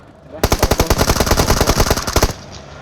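Rapid automatic gunfire from a PUBG Mobile battle, a loud sustained burst of close rhythmic shots lasting about two seconds, with a faint voice underneath.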